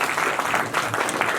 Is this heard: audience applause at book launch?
yes